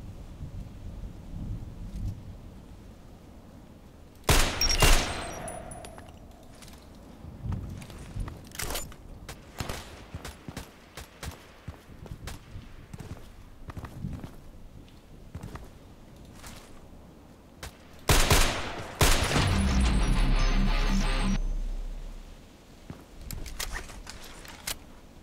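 Sniper rifle shots in a video game, a DT-SRS, fire as two loud booming blasts with long rumbling tails, one early and one later, over quiet background noise and faint scattered clicks.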